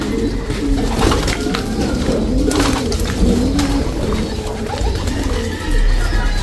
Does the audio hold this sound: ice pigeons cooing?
yes